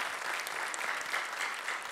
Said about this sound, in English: Can you give them a huge round of applause?